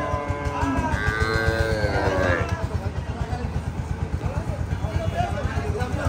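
Cattle with calves moo loudly nearby at a cattle market, a long drawn-out call over a steady engine-like rumble and busy outdoor market noise.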